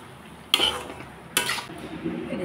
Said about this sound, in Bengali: এখন আমি নাড়াচাড়া করে নামিয়ে নেব।